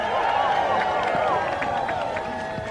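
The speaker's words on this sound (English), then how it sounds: "W. Franklin Richardson, give him a round of applause." A large crowd at a National Action Network gathering applauds and cheers for Reverend Dr. Franklin Richardson, a dense steady wash of clapping with scattered shouts rising over it.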